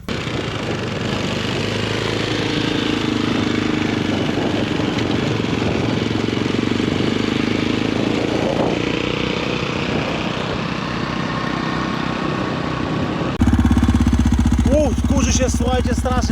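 A small scooter engine starts and runs with a buzzing, rough drone, steady and close, then shifts abruptly to a louder, harsher tone near the end.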